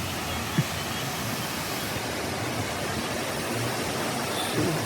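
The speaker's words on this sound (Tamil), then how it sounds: "இங்கே பாருங்க மக்களே அருவி ஃபால்ஸை பாருங்க" Steady, loud broadband rush of a waterfall near Coorg, Karnataka, continuous and close with no breaks.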